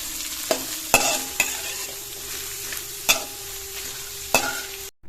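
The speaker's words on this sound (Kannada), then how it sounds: "ಈರುಳ್ಳಿನ ಚೆನ್ನಾಗಿ ಫ್ರೈ ಮಾಡ್ಕೋಬೇಕು ಅದು ಗೋಲ್ಡನ್ ಬ್ರೌನ್ ಬರೋವರೆಗೂ ಫ್ರೈ ಆಗಬೇಕು" Onions fry in a pan with a steady sizzle while a spoon stirs them, giving several sharp scraping knocks against the pan at irregular intervals, close and clear with no voices.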